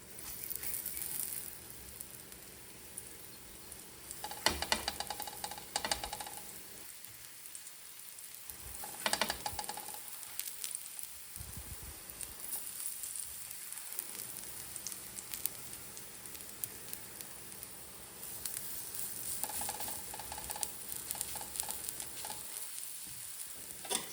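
A cutlet frying in ghee on a hot tawa, making a steady, close sizzle throughout with crackling bursts and brief quieter dips, and no talk over it.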